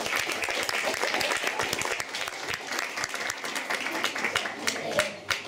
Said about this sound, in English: So I think both deserve a big round of applause.